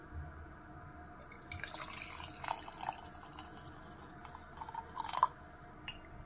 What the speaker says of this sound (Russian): Заливаю горячей водой.